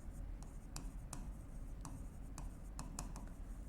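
A pen writes on paper during a Hindi-language accounting lesson, giving short scratchy strokes spaced irregularly over a low steady hum, fairly faint and without speech over it.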